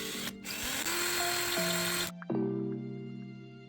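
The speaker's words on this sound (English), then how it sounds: "I'm going to be using a drill to remove some of this wood." A power drill whines steadily at close range boring into wood, its pitch dipping and shifting as it bores, then briefly cutting out and spinning back up.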